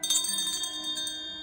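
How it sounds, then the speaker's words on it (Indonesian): A hotel lobby bell rings once with a bright, shimmering strike, then its tone decays over the following second. It sounds close and is heard alone. "samar-samar aku mendengar suara lonceng yang tadi sempat aku bunyikan di lobi."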